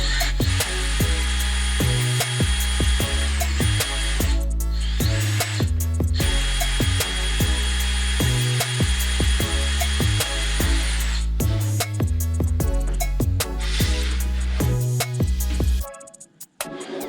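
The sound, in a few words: drill boring holes in PVC pipe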